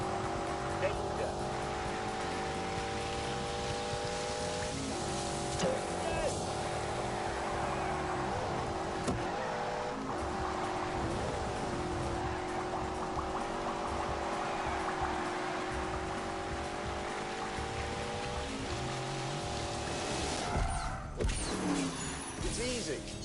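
BMW car driving on a track in The Grand Tour racing video game, a steady engine drone held at fairly constant pitch with brief gear-change dips, continuing for over twenty seconds at moderate level.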